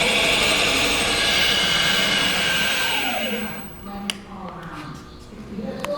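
Hunter OCL400 on-car brake lathe running with a steady whining drone that drops in pitch as its speed is slowed, ending with quieter mechanical sounds.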